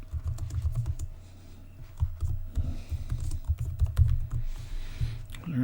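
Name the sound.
typing on a computer keyboard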